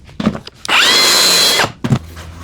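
A track saw rips through laminate strips in one loud, steady whine lasting about a second, with brief knocks of handling before and after.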